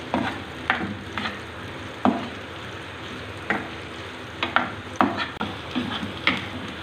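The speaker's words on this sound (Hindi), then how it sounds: "चम्मच हिलाते रहें ताकि साथ साथ ये जले ना।" A spoon stirs egg khagina (scrambled eggs) frying in a pan, with a steady close sizzle broken by repeated sharp scrapes and clinks of the spoon against the pan, irregularly spaced, no voices.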